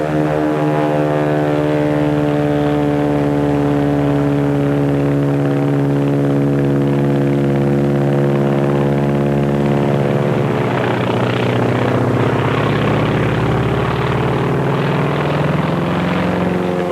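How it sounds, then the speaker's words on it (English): Japanese Zero fighter plane, its propeller engine droning loud and steady with a strong harmonic hum throughout, swelling and growing rougher toward the end with no voices. "That's a Zero, the real McCoy."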